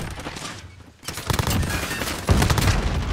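Video game gunfire from a PP90M1 in the Shipment map, dense rapid bursts of automatic shots crackling close and loud, coming in quick successive volleys.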